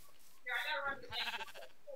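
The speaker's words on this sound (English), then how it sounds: "Sheep!" A sheep in the Minecraft DivineRPG mod gives two short, clear bleats close up, with no talk over them.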